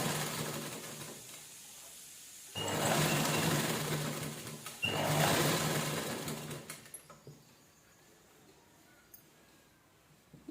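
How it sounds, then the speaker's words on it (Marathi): A sewing machine runs close up in two bursts of steady stitching while scrap fabric circles are sewn, followed by quieter handling sounds and faint clicks. "एक सर्कल स्टिच करून घ्यायचं गोल राऊंडला"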